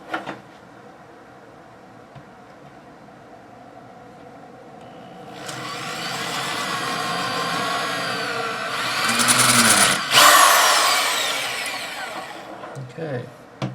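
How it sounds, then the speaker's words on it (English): Power drill boring a 4mm hole in a folding-stock modification on an SKS rifle, a steady whining motor run that builds in loudness and peaks briefly near the end, with quiet handling noise before it starts. "Now if you don't have a 4mm drill, use a 5/32."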